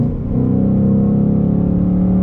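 A Ford Mustang GT engine revs hard on a downshift to third gear, a loud, close, steady droning roar that climbs slightly and holds, with no voices.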